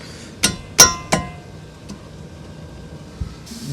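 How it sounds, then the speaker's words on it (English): Sharp metallic strikes ring out on a Ford Escape's outer tie rod end as a wrench breaks loose the jam nut, three close hits in quick succession followed by a fainter knock and a softer thud, with no talking. "I'm going to break the jam nut loose on our outer tie rod end"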